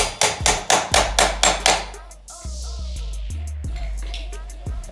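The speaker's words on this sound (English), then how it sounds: "Hit it with the hammer until it goes through." A hammer drives a motorcycle axle through the swing arm, wheel and caliper in about eight sharp, evenly spaced metallic blows close by, followed by quieter ringing taps and clinks.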